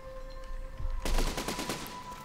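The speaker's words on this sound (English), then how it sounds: "Let's fire with the cannons." Cannons fire in the Besiege video game, a loud burst of rapid, overlapping booms starting about a second in and rattling on like a volley until the end, with a steady tone underneath.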